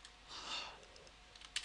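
Computer keyboard keys tapped while a sentence is entered, faint soft clicks that grow into a few sharper, closer taps near the end.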